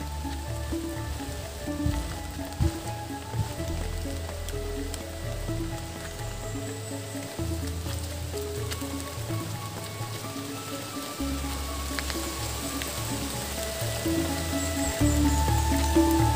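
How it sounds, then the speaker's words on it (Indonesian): Steady rain falls on a foggy rural village in Trenggalek, East Java, during the rainy season, a dense, continuous hiss of drops on surfaces with a low rumble underneath, loud and unbroken throughout. "Jadi seperti ini kalau sudah musim hujan di pedesaan ya."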